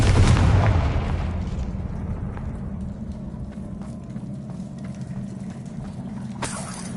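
Confringo spell explosion in a video game: a heavy booming blast at the start that rolls into a long rumbling, crackling decay, with a fresh burst near the end, loud and close.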